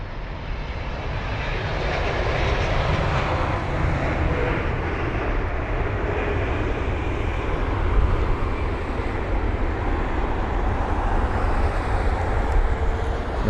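A United Airlines Boeing 777-200 at London Heathrow produces a deep, sustained engine rumble, loud and near, building slightly and holding steady throughout with no voices.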